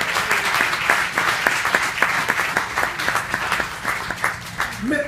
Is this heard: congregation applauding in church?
yes